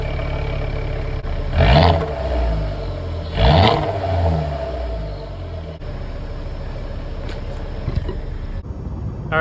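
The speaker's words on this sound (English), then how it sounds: "And I'll give you a startup too, because I think this thing sounds amazing." A rebuilt 2013 Volvo C30 Polestar engine starts up, with two loud, sharp revs a couple of seconds apart before settling into a steady, close idle.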